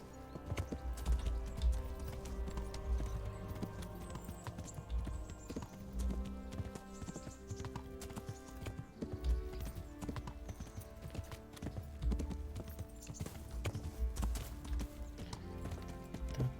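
Rhythmic clip-clop of video game horse hooves at a steady trot, continuous and fairly close, over faint background music.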